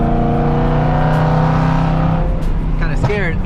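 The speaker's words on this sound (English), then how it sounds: "These downshifts are so freaking loud." A BMW E92 M3's V8 engine revs hard and close, its loud tone climbing and then dropping through downshifts before a brief voice breaks in near the end.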